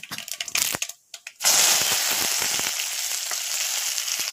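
Mustard seeds, then curry leaves, hit hot oil with fried urad dal for a tempering for a banana-peel palya. Sparse crackles and pops give way to a sudden loud, sustained sizzle that stays close and continuous without speech.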